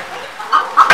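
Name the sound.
chickens clucking on an ornamental bird farm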